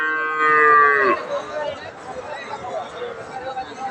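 A three-month-old heifer calf at the Aftabganj cattle market gives one loud, drawn-out moo near the start, followed by low crowd murmur and voices talking.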